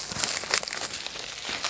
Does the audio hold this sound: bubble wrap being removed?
yes